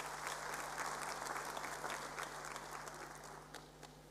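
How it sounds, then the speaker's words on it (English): Audience applause at a Class of 2022 matric results event, steady dense clapping heard at a distance, slowly fading toward the end. "Give her a big hand of applause"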